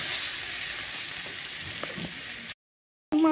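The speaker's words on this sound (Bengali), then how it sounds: "এটা অল্প নাড়াচাড়া করবো, মাছের সাথে অল্প মশলাগুলোকে লাগিয়ে নেবো আর কি।" Steady close sizzle of pabda fish frying with spices in a pan on a low flame, with faint stirring scrapes, before the sound cuts to silence near the end.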